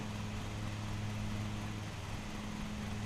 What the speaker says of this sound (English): Use a 20-inch mower, Eric, there.